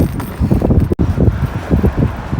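Gusty outdoor wind buffeting a microphone during a journey through Suffolk and Norfolk, loud low rumbling bursts that rise and fall irregularly, with a brief dropout partway through.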